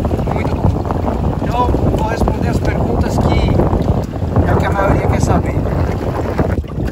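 A 2020 Sea-Doo GTX 170 jet ski with a 170 hp engine running out on the sea, its motor droning loudly and steadily under heavy wind buffeting and water rush, with a voice talking over it.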